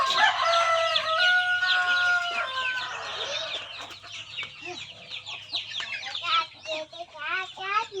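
Native chickens outdoors cluck and crow nearby, a rooster's long call opening over a steady low hum, followed by a busy run of overlapping clucks and chirps.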